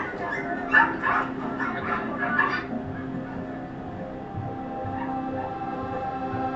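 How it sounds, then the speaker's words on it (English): Many puppies in a crowded puppy mill yip and whimper in a burst of high, overlapping cries, then fade into a steady low background hum. "this room is just filled with puppies"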